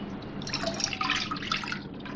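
Water is poured into a pan to start a sugar syrup for semolina halwa, a steady splashing and trickling flow lasting a couple of seconds, close and clear with no talk.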